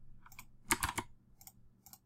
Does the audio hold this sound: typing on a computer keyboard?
yes